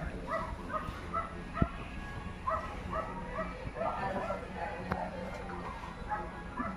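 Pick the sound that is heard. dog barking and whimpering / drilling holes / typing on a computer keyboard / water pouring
dog barking and whimpering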